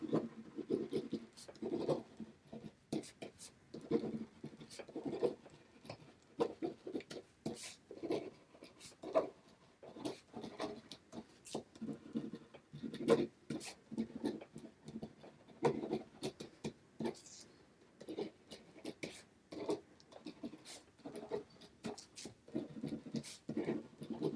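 Pen on paper, a quiet close scratching of handwriting in short irregular strokes with brief pauses, continuing steadily with no talk.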